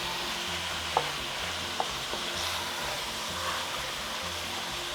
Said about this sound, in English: So the olive oil is hot, so now I'm going to add the meat.